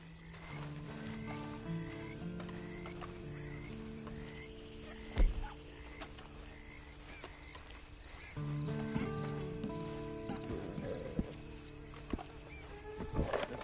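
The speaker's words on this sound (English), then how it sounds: "And you better get on this horse." A horse in Red Dead Redemption Online snorts, neighs and clops its hooves over a sustained backdrop of in-game music, with a louder burst midway.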